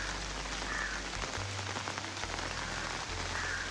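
Steady rain falls outdoors on a rainy day, a dense, even hiss that runs throughout, with a low rumble coming and going underneath.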